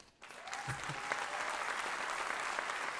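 A concert audience at a Christmas performance by a wind orchestra and majorettes bursts into sustained applause, dense steady clapping that swells quickly and holds loud throughout.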